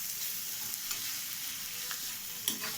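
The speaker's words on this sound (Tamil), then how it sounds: "இப்போ இதை நல்லா ஃப்ரை பண்ணி விட்ட பிறகு கடைசியாக நம்ம ஃப்ரை பண்ணி வச்சுருந்த முட்டையை ஆட் பண்ணிக்கணும்" Chicken noodles with soy sauce stir-frying in a pan, street-style, a steady bright sizzle with occasional scrapes and clinks of stirring, close and continuous.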